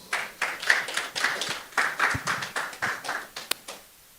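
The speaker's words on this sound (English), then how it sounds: "Please, let's give him a round of applause." Applause at a State of States 2023 conference keynote, a small audience clapping in a steady pattern of distinct bursts that fades out near the end, moderately close.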